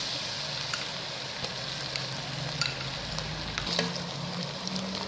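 Onions frying with ginger garlic paste in a pan for daal mash, a steady soft sizzle with occasional stirring crackles.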